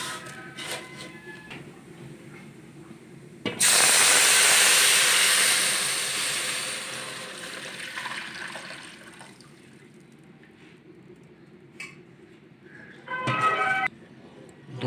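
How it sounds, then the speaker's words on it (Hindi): Milk poured into a pot of roasted vermicelli gives a loud steamy hiss that swells suddenly, holds for a few seconds and fades. A brief clatter follows near the end. "अब हम इसमें 1 लीटर दूध शामिल करेंगे।"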